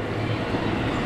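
A JR 223 series Special Rapid train bound for Himeji runs between Hikone and Ishiyama, a steady low rumble and rolling noise heard from inside the carriage.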